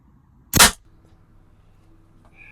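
A single sharp crack from a smallbore rifle on an indoor benchrest range, a sighting shot fired during an NSRA-style competition, loud and close, followed by near silence and a faint click.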